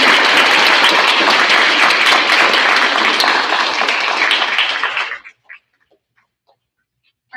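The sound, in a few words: audience applause for sixth grade award students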